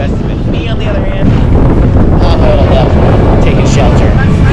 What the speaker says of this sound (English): It's extremely windy and rainy today,